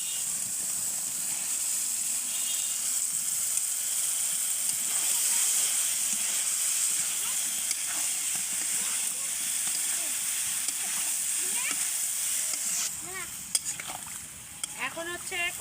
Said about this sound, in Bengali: মশলা কষানো হয়ে গেছে, এখন দিয়ে দেবো আলু বেগুনগুলো।